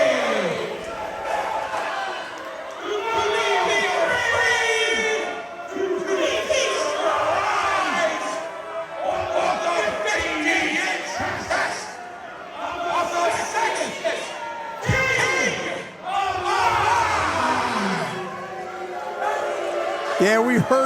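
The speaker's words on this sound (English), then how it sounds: "Well, the crowd not happy with their king." Wrestling arena crowd reacting with loud, restless noise, rising and falling in waves with chants and shouts, while a commentator talks over it throughout.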